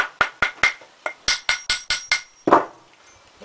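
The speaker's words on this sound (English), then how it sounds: "A few taps with an hammer just to remove the loose sand." Hammer tapping a metal casting to knock off loose facing sand after a metal melt: a string of about ten sharp, ringing metallic taps in a fairly even rhythm, followed by one heavier, duller knock, close and clear with no talk.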